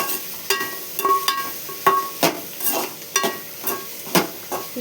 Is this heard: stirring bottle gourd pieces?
yes